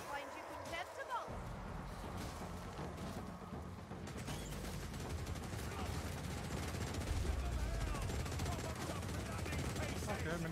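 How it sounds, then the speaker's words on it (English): A minigun in Warhammer: Vermintide 2 fires in a sustained, dense rattling stream of rapid shots, with loud game combat noise throughout and a voice talking over it. "Okay, minigun."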